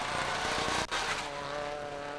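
A rally car on the opening stage of the 2003 STPR pulls away gently rather than at full throttle, its engine note loud and steady, with a brief dip midway.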